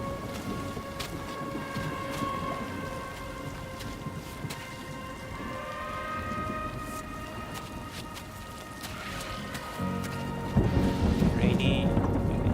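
Steady rain with rolling thunder in the video game Death Stranding 2, a constant wash of downpour under low rumbles, swelling louder near the end.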